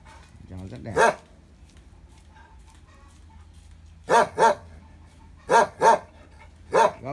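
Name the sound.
dog barking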